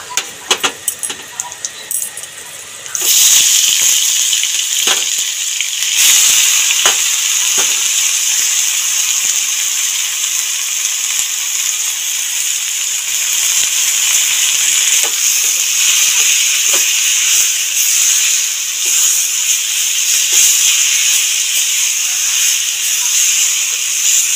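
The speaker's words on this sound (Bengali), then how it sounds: "আগে থেকে যে গ্রেট করে রেখেছিলাম আমরা বিলতি আমড়াগুলো এবার দিয়ে দেবো" Grated hog plums (amra) go into a hot fried spice tempering for chutney, setting off a sudden loud, sustained hissing sizzle that holds steady after a few quieter opening seconds, with occasional utensil clinks.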